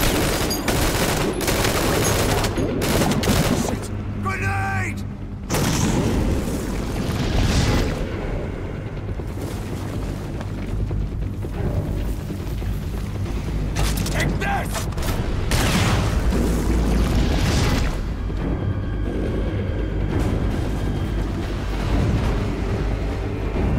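Rocket launcher blasts and gunfire in Metal Gear Solid V, loud and continuous throughout, with dense booms, rapid shots and rumbling explosions layered over game audio and brief voices.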